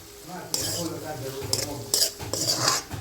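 Onions are stirred and roasted in a pan for hotel-style Manchurian, with close metal spatula scrapes and clinks over a steady sizzle, in several distinct strokes and no speech.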